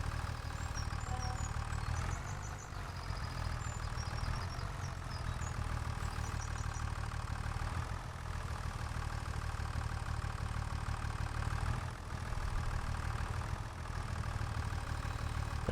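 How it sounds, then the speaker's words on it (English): A small lightweight tractor in need of maintenance idles steadily, a low, even engine rumble that holds constant throughout with no talking. "Just a lightweight little tractor, but she's going to need some maintenance pretty soon."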